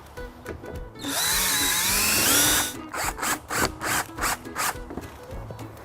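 A power drill drives screws into a greenhouse frame during assembly, with one long steady whine of the motor followed by a run of short, rhythmic bursts as the screw is driven home, loud and close with no talk.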